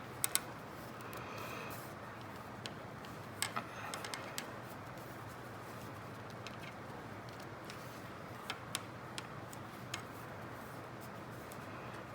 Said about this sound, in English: So we're just going to start knitting.